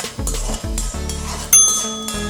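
Byadgi chillies dropped into a hot pan and roasting, with a steady crackling sizzle, a few metallic clinks of a utensil against the pan and a brief bright ring partway through.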